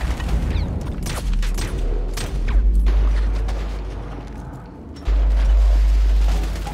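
Gunfire shootout in GTA V, with bursts of sharp shots and heavy booms crowding each other, loud and close, with mechanical clanks between volleys and no talking.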